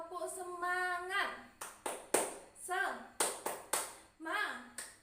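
A primary classroom of children does a rhythmic cheer clap, sharp bursts of hand claps in short patterned groups alternating with chanted children's voices and a teacher's speech.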